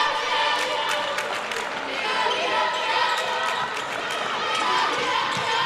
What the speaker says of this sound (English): You hear the crowd trying to get behind the Eagles right now, see if they can give them a spark